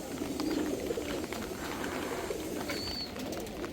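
Domestic pigeons coo softly in a rooftop loft open to strong wind, a steady low murmur of overlapping calls with faint chirps drifting over a constant breezy background.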